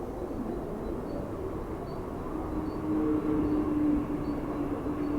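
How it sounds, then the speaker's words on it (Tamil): A Mumbai local commuter train rumbles past at close range, a steady low roar with a brief tonal whine swelling midway, no voices. "இது வந்து கோர்கான் போகிற ட்ரெயினுங்க"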